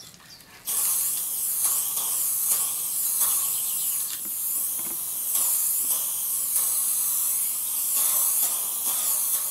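PlastiKote spray paint primer hisses onto a wooden Ikea KNAGGLIG crate, starting after a short pause and running as loud, close, sustained bursts with brief dips between passes.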